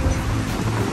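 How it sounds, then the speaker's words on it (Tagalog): Heavy rain pours down in a steady, dense hiss and roar during a pigeon racing derby, loud and unbroken for a moment. "naabutan ng malakas na ulan yung ating warrior"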